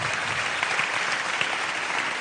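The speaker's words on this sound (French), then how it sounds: "Vous pouvez l'applaudir." A ceremony audience at the Talents des Cités event applauds a speaker being welcomed, with continuous full-room clapping at an even level throughout.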